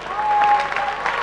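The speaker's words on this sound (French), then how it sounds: "qui a tout organisé avec Bertrand Dinger, on peut les applaudir très fort déjà." Applause from an event audience, a short burst of clapping with a faint steady tone running underneath.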